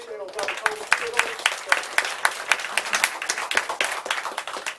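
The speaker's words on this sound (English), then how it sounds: "everybody give them a round of applause, welcome" Audience applause at a Black August community meeting at The Pan-African Connection, steady clapping with regular sharp claps across the whole span, moderately loud and close, with a brief voice at the start.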